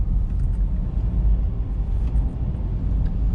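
A car drives through Macau streets at night, its steady low engine and road rumble continuous and close throughout with no voices.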